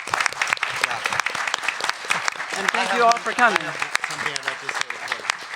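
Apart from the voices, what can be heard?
audience applause for a panel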